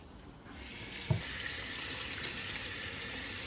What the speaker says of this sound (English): I'm gonna wash these to prep them and to just get any leftover thorns